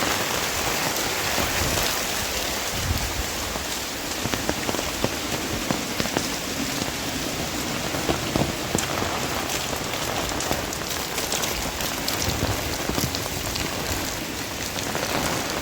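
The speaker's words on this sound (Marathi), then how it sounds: "पाऊस देखील भयंकर पडत आहे" Heavy rain pours steadily around a house, a dense, continuous hiss of drops striking surfaces close by, with no voices over it.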